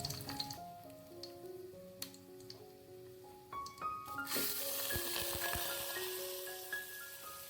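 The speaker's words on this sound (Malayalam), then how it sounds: "അരിയിട്ട് കൊടുത്തതിന് ശേഷം നമുക്കിനി അതൊന്ന് ചെറുതായിട്ട് ആ എണ്ണയിൽ തന്നെ ഒന്ന് ജസ്റ്റ് ഒന്ന് വറുത്തെടുക്കാം" Rice tossed into hot oil and lightly fried for mutton biryani: a quiet sizzle swells into a steady hiss partway through, with soft stirring clicks and faint tonal music in the background and no speech.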